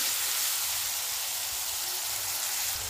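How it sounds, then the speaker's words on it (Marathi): Chopped tomatoes frying in a hot pan for Gujarati dal dhokla, a steady broadband sizzle and hiss holding evenly throughout, with faint low rumbles underneath and no voices. "आता हे टोमॅटो टाकून देऊया। टोमॅटो मऊ होईपर्यंत आपल्याला छान भाजून घ्यायचं आहे।"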